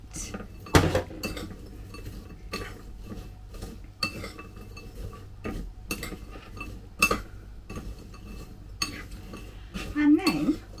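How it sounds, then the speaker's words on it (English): Mixed nuts being stirred with sugar in a bowl, spoon and nuts scraping and clinking in repeated close strokes, with sharp chinks of cutlery against the dish throughout. "you're going to add your sugar and give that a stir through"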